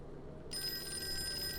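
A telephone rings in a horror video game, a steady electronic ring that starts abruptly partway through and continues alone at moderate level.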